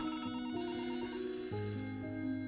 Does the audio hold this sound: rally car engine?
no